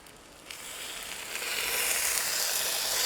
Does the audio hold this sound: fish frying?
yes